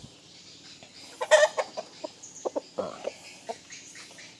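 A chicken scratches at the ground and clucks softly, with a series of short quiet scuffs and clucks spaced irregularly against a near-silent background; a voice speaks briefly.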